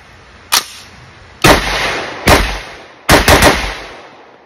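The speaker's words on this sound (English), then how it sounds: "Okay, here we go. Five shots. Pretty kinda sorta quick. Fire in the hole" A rifle fires five loud, sharp shots outdoors at an uneven pace, the last three close together, each cracking and then echoing briefly into the distance.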